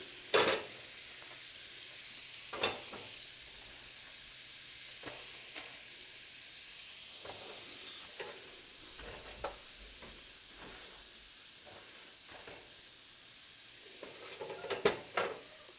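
Bread slices dipped in garlic and fried in a pan give a steady soft sizzle, with occasional clinks and stirring scrapes against the pan and a few louder knocks near the end.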